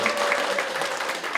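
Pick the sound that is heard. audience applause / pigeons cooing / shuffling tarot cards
audience applause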